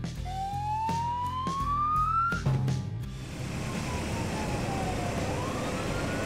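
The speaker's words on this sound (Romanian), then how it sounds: "Mașină de pompieri." A rising fire engine siren wail in a children's cartoon sweeps upward over a musical backing, then cuts off, leaving steady background noise.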